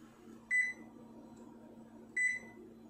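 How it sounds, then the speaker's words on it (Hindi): An LG microwave oven runs on high power while heating a cup of coffee, giving a steady low hum broken by two short, bright beeps about a second and a half apart. "इसी कप को हम माइक्रोवेव में रखने के बाद हम 3 मिनट का टाइम सेट करेंगे।"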